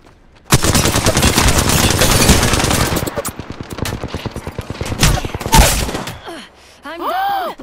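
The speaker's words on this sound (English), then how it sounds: "They shot me from behind!" Automatic weapon fire in the Apex Legends battle royale game: dense, loud sustained bursts for several seconds, then sparser shots and a final stutter, with a player's voice talking over the gunfire.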